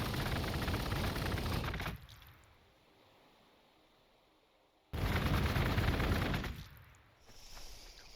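Gunfire bursts in the strategy video game Warhammer 40,000: Gladius, a dense loud volley lasting about two seconds, then a lull, then a second heavy burst that trails off.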